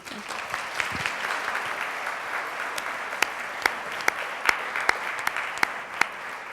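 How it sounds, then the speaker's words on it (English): Applause from an audience at a leaders gala honoring nominees, a steady wash of clapping with sharper individual claps standing out near the end, moderately loud. "let's give one final round of applause to this group of nominees"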